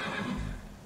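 Horse in the video game Skyrim neighs with a short, loud whinny, close and alone, fading out within a second.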